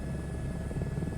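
Airbus H125 helicopter in MSFS 2024, its turbine engine and main rotor giving a steady, even low drone throughout with no talk over it.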